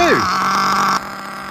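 STS race engine on a hyper VT idling steadily during break-in, a smooth even hum with a falling whine at the start and a slight drop in level near the end.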